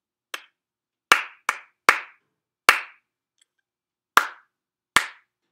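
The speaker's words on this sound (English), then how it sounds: "choose the card that shows the rhythm that I just clapped" Hands clap a short rhythm in a fifth-grade music class: seven sharp, close claps in an uneven pattern with brief silences between them and no voices.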